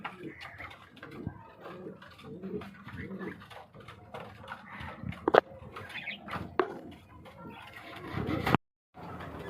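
A breeding pair of Gugu pigeons coo softly near the listener, their low murmuring calls mixed with rustling, brief knocks and someone speaking.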